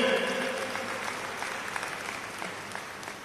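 An audience at a large church assembly in Thrissur applauds with a dense, steady clatter of hands that holds at moderate loudness and slowly tapers off. A few voices can be heard under it.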